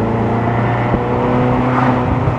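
Ferrari California V8 with vacuum lines pulled, its engine rumbling steadily and loudly up close with a few sharp exhaust pops and bangs crackling through the note.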